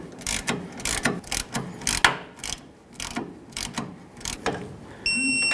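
A ratchet snugs up tie rod clamps on a 1992-2000 Chevy Tahoe, with close, loud bursts of clicking in uneven strokes and short pauses, ending in a faint beeping tone.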